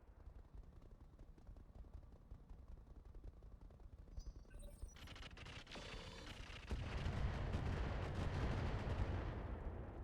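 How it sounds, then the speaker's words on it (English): Missile hits landing in a video game: a run of rapid percussive impacts and blasts that build into a dense, loud, sustained barrage toward the end. "Lots of missile hits."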